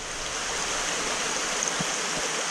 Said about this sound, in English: This is the water running in for the water change.